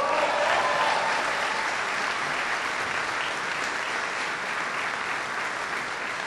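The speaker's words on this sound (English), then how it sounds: "Give Joe a big round of applause." Troops at a military gathering applaud a newly arrived special operations commander, a broad, even wash of clapping from a large crowd that holds steady and fades only slightly over several seconds.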